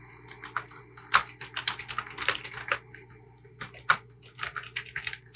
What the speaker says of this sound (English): Let me type them out for you.